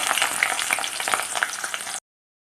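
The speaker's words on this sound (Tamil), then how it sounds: "பாருங்கள், வெங்காயம் நல்லா பொன்னிறமாக பொரிஞ்சு வந்துருச்சு." Chopped onions with cinnamon and garam masala sizzle and crackle steadily in hot oil in a pan for jackfruit sabzi, a loud, dense frying hiss that cuts off abruptly.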